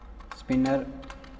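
Quick keystrokes on a computer keyboard while code is entered, a few soft clicks alongside a short tonal hum in a quiet room.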